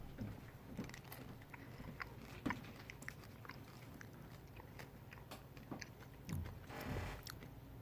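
Chewing and crunching on pumpkin pie flavored M&M's chocolate candies, close and quiet, with scattered small bites and mouth noises throughout and no talking.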